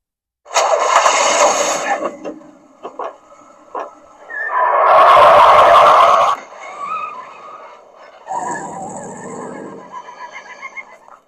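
Fanhome Knight Rider KITT model car running its action-mode sequence: a string of electronic sound effects, with mechanical whirs, a loud sustained burst in the middle and tonal chirps, played close and with no talking.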